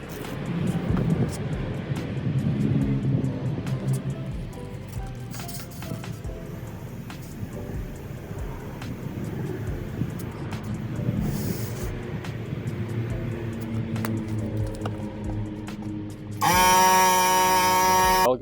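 An abandoned turbo Honda Civic with its engine running, a rough, rumbling idle with mechanical clatter and occasional brief whines, ending in a louder, harsher burst near the close.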